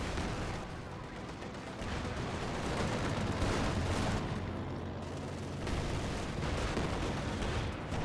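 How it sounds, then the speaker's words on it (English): A frag grenade and gunfire from a Company of Heroes 2 battle make a continuous rumble of distant shots and blasts, with a dull explosion thumping amid the steady clatter of combat. "Frag grenade is thrown out now"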